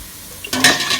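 Strained cooking water is poured from a pot onto steamed vermicelli for Demnate-style seffa, a close, brief splashing rush that starts after a short quiet pause.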